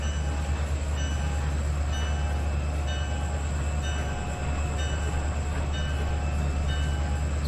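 A train in the Trainz 12 simulation rolls through a rail yard with a steady low engine drone, rhythmic wheel clatter and a sustained horn-like tone throughout.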